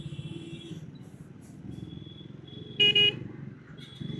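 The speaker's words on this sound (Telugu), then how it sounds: "ఇంత ట్రాఫిక్ ఉంది ఇక్కడ." Busy traffic hums along a crowded service road, with engines rumbling steadily and a loud horn blast cutting through, plus fainter toots nearby.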